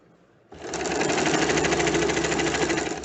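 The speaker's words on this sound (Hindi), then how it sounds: "इस तरह से सिलाई लगाएंगे" A sewing machine stitches an elastic waistband casing, starting abruptly and running in a steady, fast, loud mechanical whir close by, with no talking.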